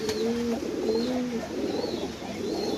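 A racing pigeon coos close by in soft, low, repeated phrases over a steady background hum. A brief click comes near the start.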